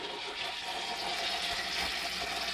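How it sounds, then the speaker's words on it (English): An aquaponics bell siphon kicks in and drains water from a small indoor grow bed, a steady, moderately loud gushing and gurgling that continues throughout without talk. "So the siphon's activating and the water level is dropping."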